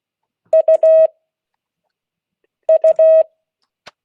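Morse code letter played as clear electronic tones in a class: two identical loud groups of two short beeps and one long beep, separated by silence, then a faint click.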